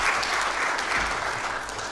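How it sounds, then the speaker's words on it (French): Steady, dense audience applause after a panel discussion at an economics forum, loud and continuous throughout with no voices over it. "On les applaudit encore une fois, mesdames et messieurs"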